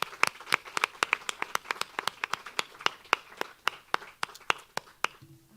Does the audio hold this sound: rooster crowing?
no